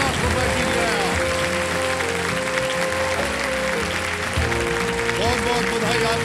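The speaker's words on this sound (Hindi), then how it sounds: "सब लोग खड़े होकर ताली बजा रहे हैं" A studio audience at a KBC Season 15 quiz show stands and applauds a contestant's ₹50 lakh win, steady dense clapping throughout under a bed of dramatic music tones.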